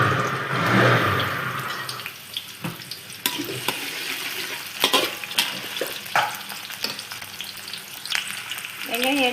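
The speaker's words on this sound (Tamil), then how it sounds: "வெங்காயம் ஆட் பண்ணி கொஞ்சம் நல்லா வதங்கிட்டோம்" Onions sautéing in a pan for prawn sambal, a strong continuous frying sizzle with scattered scrapes and clicks of stirring, loud and close, without talk.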